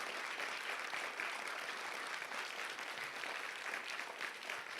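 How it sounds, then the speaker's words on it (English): Theater audience at the Dietrich Theater giving a round of applause, a continuous, even roar of clapping hands that stays fairly soft throughout. "How about a round of applause for Dr. Josephine Dunn?"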